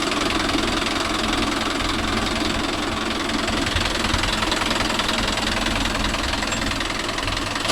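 A Mahindra Yuvo Tech Plus 585 4WD tractor engine runs steadily up close, pulling a 9-tine cultivator through wet field soil, a loud continuous diesel drone with a knocking rumble and no voices.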